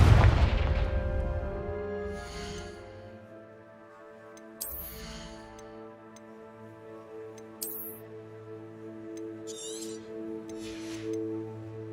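A Confringo fire spell from Hogwarts Legacy goes off as a heavy, loud boom at the start. A long ringing tonal decay follows, with a few sharp magical bursts and chimes scattered across the next several seconds and no voices.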